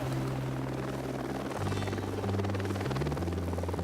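A helicopter carrying kaka parrots to an aviary in New Zealand's Wainui Valley thrums steadily and loudly with a deep rotor drone, shifting pitch partway through.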